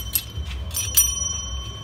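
An uncoated small bell is struck a few times in a demonstration of liquid wheel-arch liner coating, giving bright metallic rings with short sustained high tones over a low background hum.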